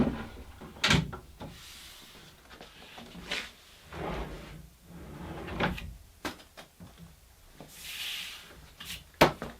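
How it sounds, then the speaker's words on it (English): Wooden drawers with soft-close runners slide back into a console table as they are refitted, giving a series of close knocks, rubs and gentle thuds with short quiet gaps between them. "we can refit the drawers and admire the smoothness of those soft close runners"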